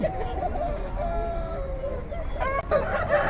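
Country chickens at a village poultry market cluck and a rooster crows, loud and close, over busy crowd noise in the background.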